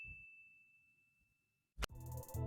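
A thin high electronic tone hangs in near silence, then a sharp bright ding rings out, followed by louder shimmering chimes.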